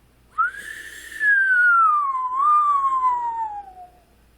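A single long whistled tone, rising then gliding slowly downward with a brief upturn midway, clear and close, with no other sound around it.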